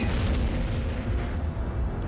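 A supernova explosion sound effect: a deep, sustained rumbling boom that rolls on heavily with no pause or voices.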